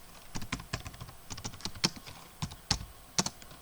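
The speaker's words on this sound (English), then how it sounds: "Within that I will type a paragraph tag." Irregular clicks and taps of a computer keyboard being typed on, some keystrokes sharper and louder than others, close and quiet with no voices.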